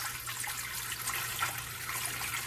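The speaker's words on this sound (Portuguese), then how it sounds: "vamos colocar na panela de pressão e vamos colocar metade de água" Water poured into a pressure cooker around a glass jar to cover it halfway, a steady broadband splashing and rushing that runs continuously at moderate level with no talking.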